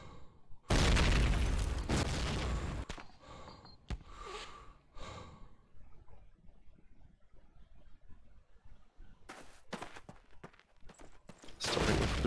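Bursts of gunfire from the World War II shooter Call of Duty: United Offensive during a competitive match, loud dense volleys at the start and end with quieter scattered shots and ambient game noise between.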